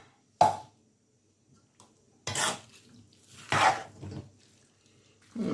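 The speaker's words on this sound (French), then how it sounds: "On mélange bien." Meat and ingredients for liboke get stirred in a pot, a few separate scraping and clattering strokes of a utensil against the pot with quiet gaps between them.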